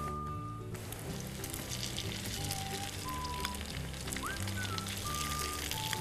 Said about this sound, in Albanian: skuqim kërpullat edhe baconin